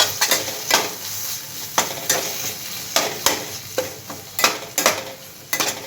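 A spoon scrapes and clanks repeatedly in a pan as roasted kasuri methi is mixed into Jain pav bhaji, irregular close stirring strokes over a low sizzle.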